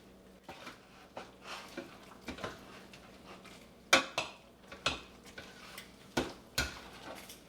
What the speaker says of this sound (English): Now, I'm going to take my ladle and stir this around.